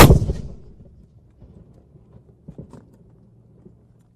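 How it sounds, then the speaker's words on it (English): A single loud artillery blast from a gun salute at the King Charles III proclamation ceremony bursts out at the start and decays quickly, followed by low echoes and faint crowd and background noise. "Three gun, fire!"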